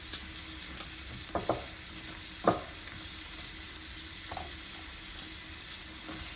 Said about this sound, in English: Just add in your crushed garlic.